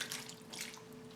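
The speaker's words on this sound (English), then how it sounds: "Take some water, splash it around in there." Water splashes over goat meat in a pot as it is rinsed, a brief faint sloshing of running water with a light metallic ring.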